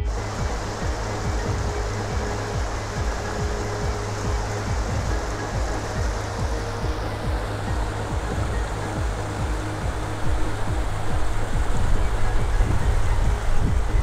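Clear Creek rushing along its banks, a dense, continuous roar of fast-moving stream water, close and steady throughout, slightly louder toward the end.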